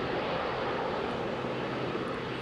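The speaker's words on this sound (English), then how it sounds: "That is a very short takeoff run for a 787." A Boeing 787 airliner takes off at Heathrow Airport, a broad continuous jet roar heard from a distance that stays steady and loud throughout, with no voices.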